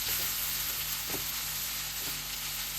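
Homemade hash browns with bell peppers and onions fry in a pan, giving a steady, close hiss of sizzling oil with a couple of faint stirring scrapes and no voices.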